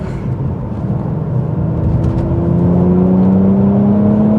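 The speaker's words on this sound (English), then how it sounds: "Performance exhaust is sounding fantastic as always." A 400hp Mercedes-AMG C43 with a performance exhaust accelerating hard, its engine note climbing steadily in pitch, loud and close, with no talking.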